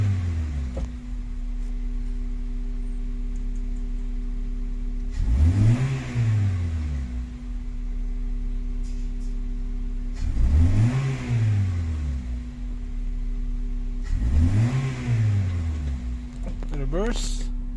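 A car engine revs hard three times from idle, each sharp rise and fall spaced a few seconds apart over a steady low idle hum, with a person talking briefly.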